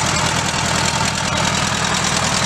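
A Bobcat M610 gas skid steer loader, warmed up after running about an hour, idles with a steady, loud, even engine drone and no pauses.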